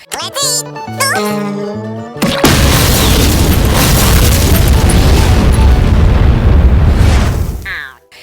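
A cartoonish jingle gives way to a huge, sustained roaring cartoon nuclear explosion, from SpongeBob, that rumbles loudly for several seconds before cutting off.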